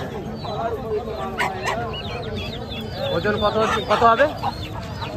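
Chickens cluck and squawk close by, with a burst of agitated calls near the end, while people talk over them.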